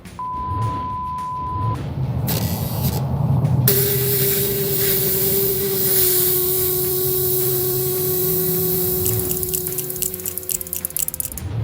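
Air hisses steadily out of a tyre through a TeraFlex Nomad deflator while airing down off-road, a loud, continuous close rush lasting several seconds with a faint steady tone above it and no talking.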